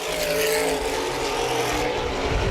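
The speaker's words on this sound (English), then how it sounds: "Front 5 cars all under a blanket running in lockstep." Several open-wheel modified race cars roar past together at high speed on Baer Field Speedway, engines blaring in a loud continuous drone with no voices.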